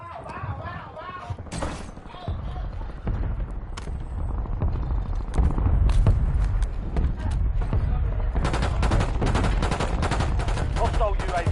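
Gunfire in Call of Duty Warzone: bursts of rapid automatic shots and sharp cracks that pick up and stay dense toward the end, mixed with game voice callouts.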